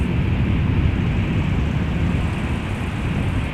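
A 20-year-old Finnair Airbus A321 airliner at Amsterdam Schiphol Airport, a steady low, broad jet roar that holds constant and fills the whole stretch without a break.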